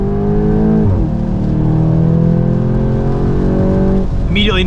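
A 2025 Volkswagen GTI in sport mode pulls hard on the Road America circuit. The engine drone climbs steadily through one gear with a brief dip near the start, loud and continuous from inside the car.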